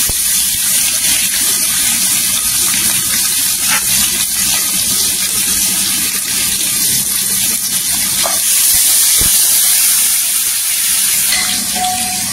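Onions and curry leaves hitting hot oil in a tempering with hing, mustard and cumin, a steady loud sizzle and crackle that holds evenly throughout with no pauses.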